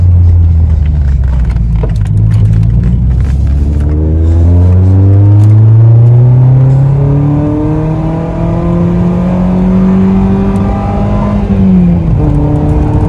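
A Peugeot 206 engine revs loudly and continuously, its pitch climbing steadily through the gears, close by, with no talking.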